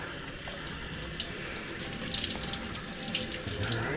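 A kitchen tap runs steadily while a whole raw chicken is rinsed inside and out beneath it. The stream is close and continuous, and no one speaks.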